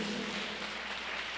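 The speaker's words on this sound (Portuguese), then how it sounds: "Vamos aplaudir o Senhor Jesus," A church congregation clapping together in worship, a brief, soft, continuous patter of applause heard from some distance.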